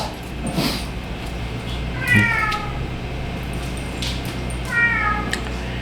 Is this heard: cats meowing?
yes